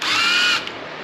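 A power tool whirs briefly while snugging bolts on a Suzuki GSXR 1000 motorcycle engine during a transmission install, one loud close burst of about half a second that stops abruptly, followed by quiet.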